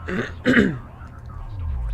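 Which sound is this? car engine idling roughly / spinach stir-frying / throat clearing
throat clearing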